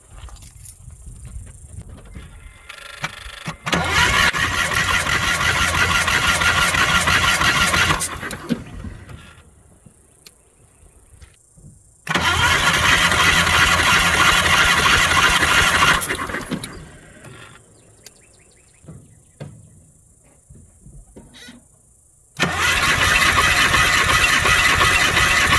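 Chevrolet Silverado engine cranking with a pressure gauge hooked up: three loud bursts of harsh, squealing engine noise separated by quieter gaps with faint clicks and rattles, recorded up close.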